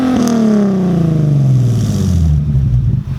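A 2012 Infiniti G37 Journey sport sedan with a custom, non-brand aftermarket exhaust revs hard close by, its loud engine note sliding steadily downward in pitch as the revs fall, with no talking.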